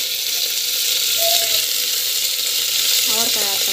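Broad beans sautéing in a pan with garlic and urad dal give off a steady, even sizzle and hiss, with a brief clink of stirring near the end.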